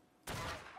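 A single sharp gunshot fired from a gun in a survival game, a sudden close burst that rings briefly before fading, heard alone.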